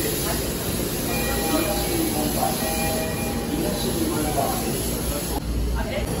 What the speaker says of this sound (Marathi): चला, आपली ट्रेन आली.